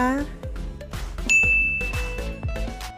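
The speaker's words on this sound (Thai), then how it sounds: "กดกระดิ่งแจ้งเตือนช่อง Herb for Beauty ไว้ด้วยนะคะ" A bright notification bell dings once and rings on briefly, over a busy backdrop of clinking and other sound effects.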